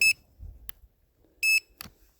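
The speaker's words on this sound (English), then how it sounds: "So you notice that beeping?" Two short, loud high-pitched beeps from a Zino Mini Pro drone, each followed quickly by a softer chirp, separated by a second of near silence with faint low rumble and handling noise outdoors in cold weather.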